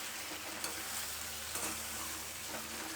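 Dhokla pieces being stirred into a hot tempering in a pan, giving a steady low sizzle with soft scraping stir sounds and a couple of brief clinks, close and fairly quiet with no talking.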